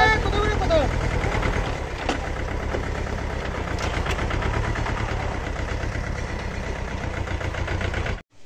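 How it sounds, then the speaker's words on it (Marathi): A tractor engine runs steadily close by on soft, wet farmland, a loud even diesel chug that holds for several seconds before cutting off abruptly. "ट्रॅक्टर जागेवर फिरायला आले"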